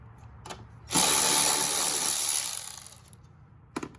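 Power tool spinning off a strut top bolt on a 2014 Jeep Patriot 2.4, one loud, close whirring burst of about a second and a half that tapers away, with short mechanical clicks before and after.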